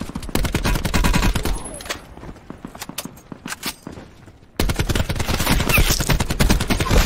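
Rapid automatic gunfire in Black Ops 4 Blackout comes in loud, close bursts: a dense stream, a sparser patch of separate shots, then another heavy burst of fire.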